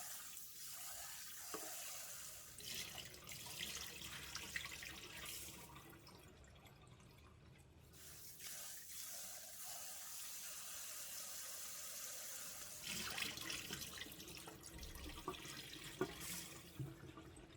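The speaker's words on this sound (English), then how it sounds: "Rinse the raw rice a few times to remove the excess starch and dirt." Raw rice rinsed under a running kitchen tap, a steady soft stream of water with gentle sloshing and swirling in a bowl, fairly quiet and close, with brief pauses between rinses.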